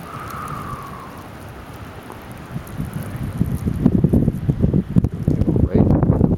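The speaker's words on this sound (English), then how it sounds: "Right in the wind now" Wind gusts roar and buffet the microphone during a spring blizzard, starting softer and building into loud, ragged bursts, with a person speaking briefly amid the gusts.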